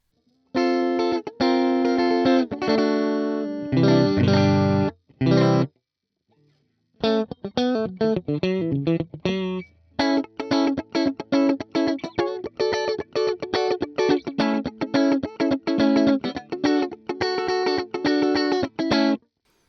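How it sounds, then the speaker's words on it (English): A very dry, clean electric guitar plays a series of crisp, plucked notes and short riffs with no reverb, separated by brief pauses. "Clean, very, very clean."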